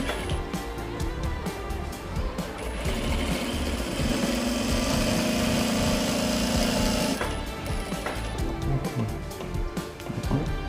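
Industrial sewing machine stitching a double-piping back pocket, a steady buzzing run of several seconds in the middle, with shorter bursts of stitching and handling before and after, no voices.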